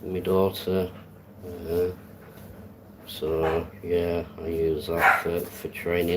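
A small Pomeranian Chihuahua named Tyson barks a few times in the background of a home, faint and partly buried under someone talking close to the microphone.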